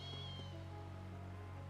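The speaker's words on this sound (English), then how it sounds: "Kitty cat! I hear him!" A small cat meows once, briefly and faintly, in the Trails of Cold Steel video game, over a steady bed of game music and ambience.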